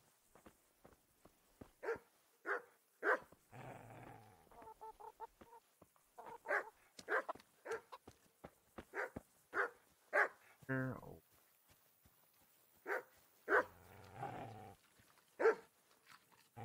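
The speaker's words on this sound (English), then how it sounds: "Dogs are barking." Dogs bark in Kingdom Come: Deliverance, the medieval game, with repeated sharp barks in irregular bursts, fairly close and loud, mixed with a few honking, bird-like calls and no talk.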